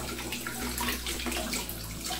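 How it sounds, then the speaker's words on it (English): Tap water runs from a faucet onto a telescope mirror for a final rinse, a steady close splashing hiss with soft gurgles, continuous throughout the short stretch. "I'm gonna give it one last rinse with tap water"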